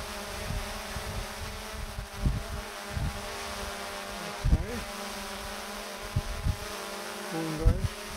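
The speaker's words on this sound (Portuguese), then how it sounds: "Estou a apanhar com o vento" Gusty wind buffets a lapel microphone outdoors in low, uneven thumps while a Mavic drone's motors hum steadily nearby, with sharper gust bursts around the middle and end.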